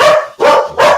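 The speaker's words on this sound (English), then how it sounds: "Hey, what are you guys barking at?" Dogs on a homestead bark three times in quick succession, loud and close, with short gaps between each bark and no talking.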